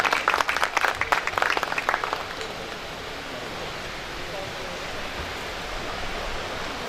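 Seminar audience applauding at a polio awareness event, a loud burst of dense clapping for about two seconds that then fades into a steady, softer wash of crowd noise.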